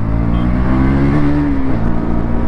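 A 2024 KTM Duke 200 motorcycle engine revs up on the throttle, its pitch rising and falling in one close, loud, continuous burst.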